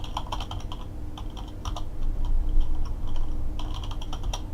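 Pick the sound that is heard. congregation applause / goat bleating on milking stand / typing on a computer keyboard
typing on a computer keyboard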